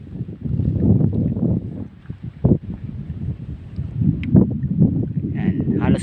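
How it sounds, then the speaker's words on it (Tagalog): Strong wind buffets a small boat at sea off Gayaan, roaring and rumbling against the microphone in loud, uneven gusts with water sloshing beneath, while someone speaks over much of it. "Wala po makalaot pag ganyang kalakas ang hangin."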